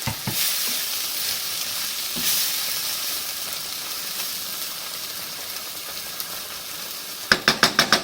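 Black beans sizzle and bubble steadily in a pan after a splash of stock is added, a continuous close frying hiss with occasional stirring scrapes and a few sharp utensil taps at the end.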